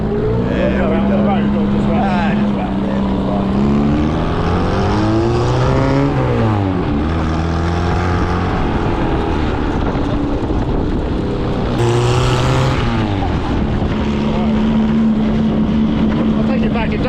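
Small Reliant car with an 1185 engine revving hard at full throttle at a prewar hill climb, a loud, rising and falling engine drone throughout, with people talking over it.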